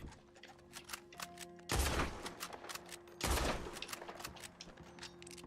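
Gunfire in Red Dead Redemption 2: a scatter of quiet shots and clicks broken by two heavy, sustained bursts of rapid fire, fairly faint overall.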